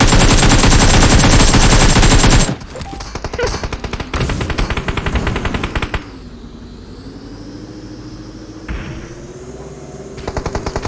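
Dense, loud automatic gunfire from the PUBG video game on the Erangel map rattles for a couple of seconds, then breaks into shorter bursts over a low engine-like hum, and more firing returns at the end.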